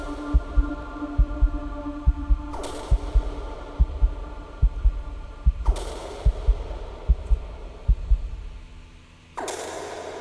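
Heartbeat sound effect in a music video: steady paired low thumps repeat evenly throughout, close and prominent, over a sustained musical hum with a few sharp swells.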